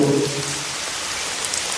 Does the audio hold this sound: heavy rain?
yes